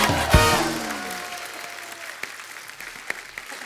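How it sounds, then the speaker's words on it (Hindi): A studio audience at a comedy talk show breaks into applause, a loud burst of dense clapping that peaks early and tapers off, with a few sharper claps standing out near the end. "माधुरी दीक्षित जी के लिए एक बार जोरदार तालियां हो जाए"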